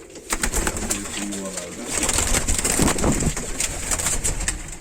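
Çakal and Hünkari pigeons coo inside a coop, several soft rolling coos close by over a steady background hum, with someone talking at moments.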